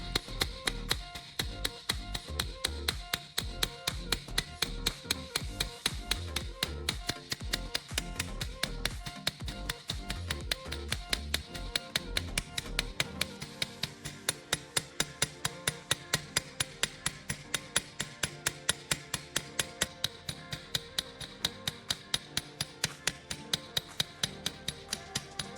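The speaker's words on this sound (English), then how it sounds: "I start hammering gently to flatten the rivet's body." Gentle hammer taps flattening the body of a small metal rivet, a long, steady train of close, sharp knocks at an even rhythm that speeds up and grows denser partway through.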